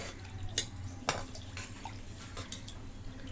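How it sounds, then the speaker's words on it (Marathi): Water pours quietly into a metal cooking pot for dal khichdi rice, with a few sharp clinks of metal against metal along the way and no talking. "आता याच्यामध्ये पाणी ओतून घेते पाणी जरा जास्त"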